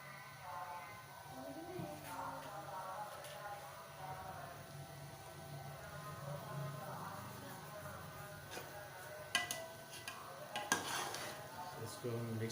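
Boiled rice being stirred with jaggery in a pan, a spoon scraping and clinking against the metal in steady repeated strokes, with faint sizzling underneath.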